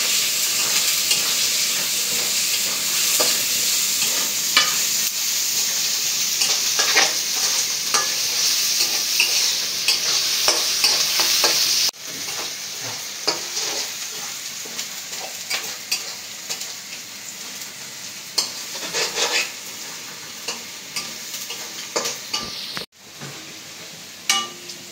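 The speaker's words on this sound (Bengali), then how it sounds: "পেঁয়াজটা ভেজে নিব।" Onions fry in oil with whole spices (cinnamon, cardamom, cloves) and green chilies in a village-style Bengali kitchen. A constant near sizzle runs under repeated spatula stirs and scrapes throughout.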